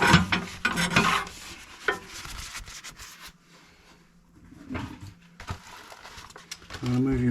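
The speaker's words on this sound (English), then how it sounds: "I want to use a mole brush on this one" A mole brush scrubs new hunter bricks in uneven bursts of rough, close rubbing. Quiet pauses fall between strokes, and someone talks over part of it.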